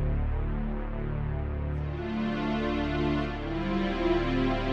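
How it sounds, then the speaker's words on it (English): A sustained, smooth Korg KingKorg NEO synthesizer pad holds steady, a warm layered chord with a slight tonal shift midway, no voices. "Classic kind of pad sound."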